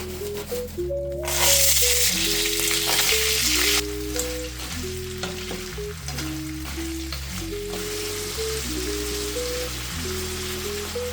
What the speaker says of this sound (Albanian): Edhe bishtajat i kemi skuqur,